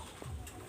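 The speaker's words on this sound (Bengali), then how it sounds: "এক জোড়া কবুতর আমি দেখাচ্ছি, কামাগার কবুতর" A pair of red-eyed Kamagar pigeons gives a soft, brief low coo, close by against a quiet background.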